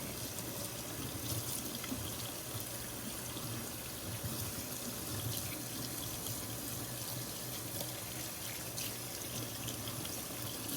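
Water runs steadily from a faucet into a sink while soap is rinsed from knife scales. The flow is a constant, moderately quiet rush, close by, with light splashing and no speech.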